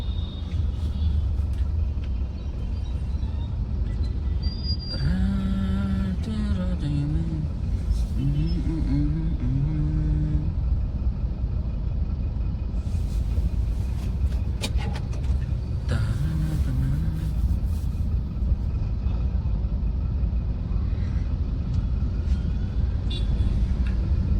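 Road traffic idling at a signal in a Tamil-speaking city, a steady broad engine rumble with a passing horn or brake squeal and the odd tone, continuous and moderately loud throughout.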